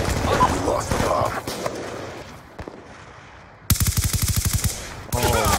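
Video game gunfire in an online shooter crackles under talk and game sounds, then a fast, loud automatic burst of evenly spaced shots rings out, followed by more shooting noise at the end.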